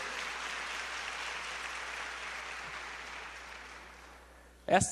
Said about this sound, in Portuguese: Esses aplausos são para Kardec.